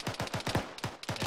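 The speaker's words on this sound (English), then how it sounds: "Shots behind us" Rapid bursts of rifle fire crack in quick succession at close range during an Arma 3 military simulation convoy ambush, about eight shots in just over a second.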